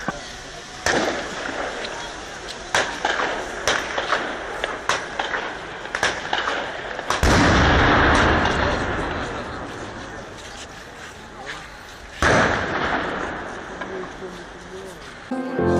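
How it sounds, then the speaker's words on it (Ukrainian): Sniper gunfire and buckshot ring out from the Hotel Ukraine during the Maidan sniper massacre. Sharp shots crack repeatedly, some loud and close with long echoes, others fainter, over a constant crowd and street din. "С отеля Украины стреляют, картечью стреляют, снайперы стреляют."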